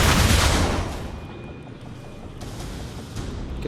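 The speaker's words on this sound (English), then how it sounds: "For alt mode, he can fire rockets" Rocket fire from a Transformers soldier in alt mode in War for Cybertron: a loud, booming launch blast at the start that decays into a rumbling, gritty tail, with no voices.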